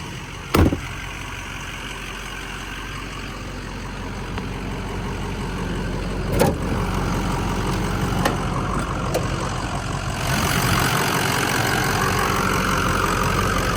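A rust-free 2006 Ford F250 XLT Sport 4x4 pickup with about 103K miles idles steadily nearby, a low continuous engine rumble with a few brief clicks and thumps, then a slightly louder, brighter stretch near the end.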